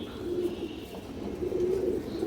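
A pigeon coos in low, rolling bursts, fairly close and steady for the whole stretch, with no talk over it.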